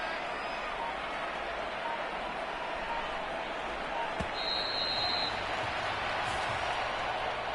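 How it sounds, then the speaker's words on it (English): A home stadium crowd in a Madden NFL football game applauds and roars in a steady, dense wash of cheering from start to finish, with a few faint knocks and tones inside the noise. "And the home crowd applauding"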